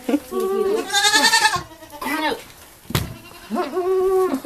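Baby goats bleat in a barn stall that was once a hay manger on an island farm in Ontario, several close, wavering cries in succession with short pauses between them.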